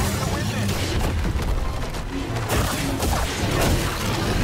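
Blaster fire and combat noise in Star Wars Jedi: Survivor, a dense, loud continuous wash of shots and impacts with booming thuds throughout, a voice talking over the action.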